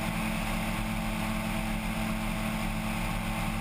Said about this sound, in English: We're actually now taking off from the gravel runway 18